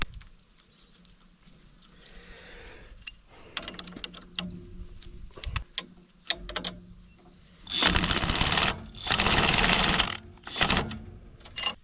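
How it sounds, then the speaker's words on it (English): An impact wrench zips nuts onto hay rake teeth on a Nebraska Sandhills cattle ranch, firing several loud, harsh bursts of a second or more each after a stretch of quieter clanking and handling noise. "using the old impact, zipping them on there, sure beats using the old ratchet"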